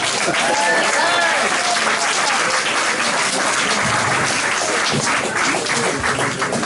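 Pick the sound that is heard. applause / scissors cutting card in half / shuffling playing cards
applause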